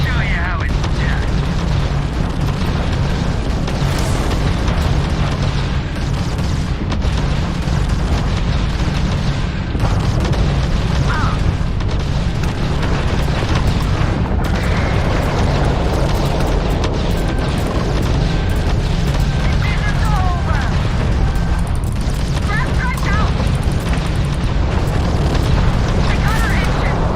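Spaceship weapons firing and explosions in Starfield combat, a dense, continuous roar of booms and blasts with someone talking over the barrage.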